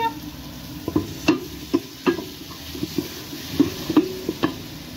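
Carrot and vegetables for couscous cook in a pot, with a soft sizzle under repeated scraping strokes of a utensil, nearby and fairly quiet.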